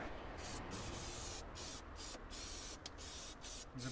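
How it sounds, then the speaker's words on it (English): A can of anti-rodent spray hisses into a car floor pan in close, quiet bursts broken by short pauses, several squirts in quick succession. "I'm going to spray a load in the floor pan as well"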